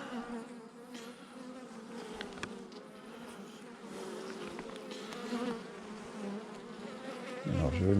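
Honeybees buzz steadily around a hive in a continuous close, dense drone that stays level throughout, with a louder low rumble surging near the end.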